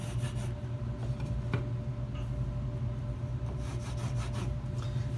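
A pencil scratches steady lines along a wooden straight edge laid on sheetrock, a soft, continuous rubbing under a low background hum, with no talking.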